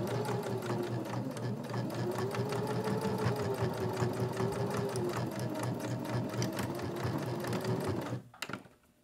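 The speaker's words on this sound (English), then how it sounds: "we're just going to come back and stitch over this beginning just a little bit" A sewing machine runs close and steady, back stitching over the start of a seam on a soap holder, a fast even mechanical whir that stops abruptly near the end.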